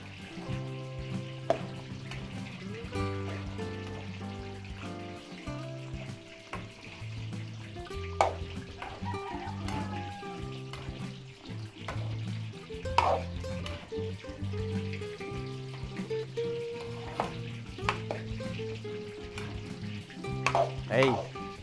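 A pan of Filipino party food, sweet-spicy with black pepper, sizzles steadily while a spoon stirs it, with scraping knocks and clinks over a constant frying hiss and some low background hum.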